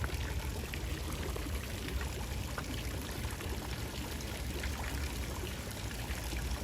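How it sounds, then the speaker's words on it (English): Water from resort fountains splashes and pours in a steady, dense hiss, continuous and moderately loud, with no talking. "I just love the fountains on this one."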